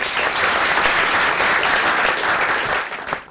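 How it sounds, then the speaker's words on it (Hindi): A studio audience on a television show claps loudly and steadily for a guest, dense applause that fades out at the very end. "तालियां इनके लिए पहले"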